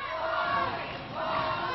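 A wrestling crowd at the House of Action boos and jeers at heel wrestler Al Madril, a continuous roaring wall of voices that swells, dips briefly and rises again.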